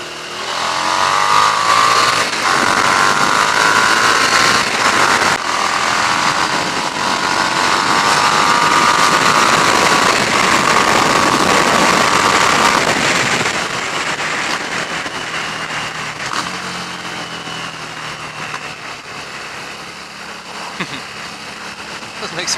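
Harley-Davidson Street 750 motorcycle ridden on a countryside road, its engine droning loud and steady with a rising pitch, fading somewhat toward the end.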